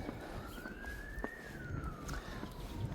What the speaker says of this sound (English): Bloody ruinous sound of civilization siren bloody thing going off.